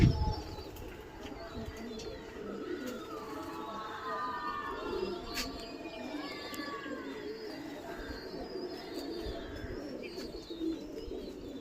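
Pigeons arriving at a rooftop loft, with soft cooing and brief wing flaps over a steady background murmur and some nearby talk.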